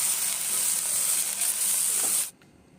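Green chillies with coriander and mint leaves frying in a pan for a chilli sauce: a loud, steady hiss of sizzling close by that cuts off abruptly near the end, leaving quiet.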